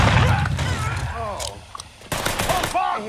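Heavy gunfire and explosive blasts in a Mafia III firefight, loud crackling bursts mixed with a voice shouting over the action, a brief lull before another loud volley near the end.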